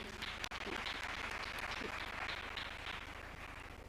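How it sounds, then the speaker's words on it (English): A large summit audience gives broad, steady applause, a dense wash of many hands clapping that holds evenly throughout. "A big round of applause to their excellencies."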